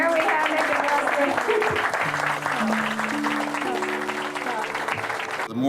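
An audience applauds crew members of the SS United States, a sustained dense clapping that fills the room, with a voice speaking briefly over it.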